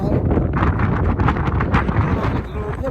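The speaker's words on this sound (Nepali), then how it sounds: "जोमसोम बजारको हावा सुनौँ है हावाको साउन्ड सुनौँ है कडा हावा लागिरहेको छ" Strong gusty wind buffets the microphone at the Jomsom bazaar in Mustang, Nepal, a steady loud roar with rumbling low-end gusts; a motorbike ride setting.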